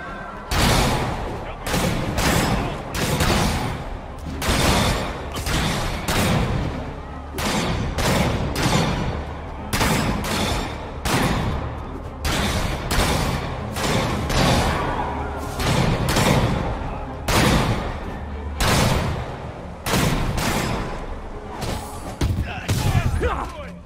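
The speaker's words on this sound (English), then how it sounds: "Snipers are opening up on the convoy." Sniper rifle fire strikes a convoy in the Spider-Man Remastered game, a steady string of loud sharp shots and thuds across the whole stretch, with voices and crashing action mixed in.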